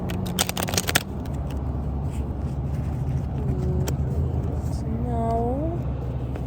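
Tarot cards riffled quickly by chilly hands outdoors, a brief crisp burst of shuffling near the start, then a steady background rumble of nearby car traffic with a faint voice.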